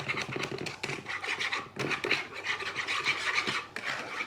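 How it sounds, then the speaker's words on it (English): A whisk scraping around a pan as milk is stirred into gravy for country fried steak, giving continuous close, brisk rasping and scratching in uneven strokes with no talk. "Maybe about a half a cup of milk in that. I'm just going to whisk that around."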